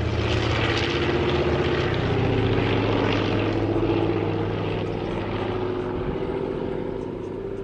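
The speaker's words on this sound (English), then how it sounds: "the planes are quite cool though" Propeller airplane flying low and close overhead, a loud steady droning engine with beating tonal hum that holds throughout and eases slightly toward the end, with no talk over it.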